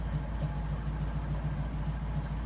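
1971 Chevrolet Camaro engine idling steadily at a traffic light, a low, even rumble with a faint pulsing rhythm, close and continuous with no talk.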